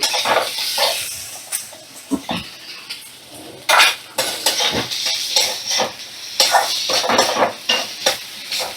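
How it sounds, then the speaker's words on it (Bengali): Boiled soybeans are stir-fried with spices in a pan on a medium flame, with repeated close scrapes and clinks of a utensil against the pan over a low sizzle. "মিডিয়াম ফ্লেমে রেখে আমি মশলাগুলো সোয়াবিনের সাথে দু মিনিটের মতো কষিয়ে নেব"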